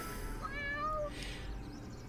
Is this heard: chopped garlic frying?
no